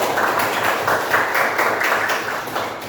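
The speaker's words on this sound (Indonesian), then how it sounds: "Tepuk tangan dulu buat kalian." Schoolchildren in an Indonesian grade 5 classroom clapping together, a steady, dense patter of many hands at close range for a few seconds.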